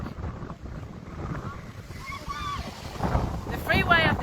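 Gusty wind buffets the microphone with low rumbling, while faint vehicle horn toots from a protest convoy on a freeway rise briefly in the background.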